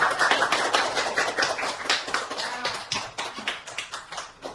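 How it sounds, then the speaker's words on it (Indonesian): A classroom applauding a student for asking a question: steady, dense clapping from many hands, close and fairly loud, lasting throughout without pause and with no voices over it. "Ibu Guru mau aplaus dulu karena sudah berani bertanya."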